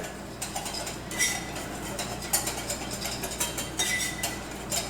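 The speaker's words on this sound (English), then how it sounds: "I like to whisk this mixture together." A whisk scrapes and clinks against a bowl while mixing a chocolate pudding mixture with cornstarch. The strokes come as quick, rhythmic metallic taps, fairly soft and close, with no voices.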